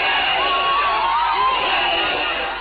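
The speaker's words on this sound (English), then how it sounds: "And indeed, the crowd of rival protesters arrived." A crowd of rival protesters shouts and cheers together in a dense, sustained roar of many voices, close and loud throughout.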